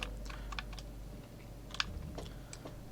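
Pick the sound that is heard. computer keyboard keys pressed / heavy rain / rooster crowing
computer keyboard keys pressed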